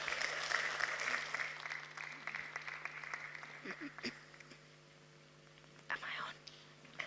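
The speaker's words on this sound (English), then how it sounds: "Let's hear another round of applause." Audience applause at a youth climate summit in Greater Bendigo for a creative arts performance, a broad, diffuse patter of clapping that thins out midway, with faint murmuring voices beneath and a brief louder burst near the end.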